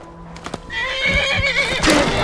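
A horse in the video game Skyrim whinnies loudly up close, a drawn-out wavering neigh preceded by a few hoof clip-clops, with no talk over it.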